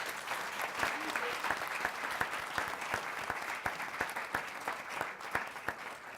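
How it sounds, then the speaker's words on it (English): An audience at a college forum on first-generation students gives a round of applause, steady overlapping hand claps with sharp individual claps standing out, moderately close but fairly quiet. "Let's give our students a round of applause for being here."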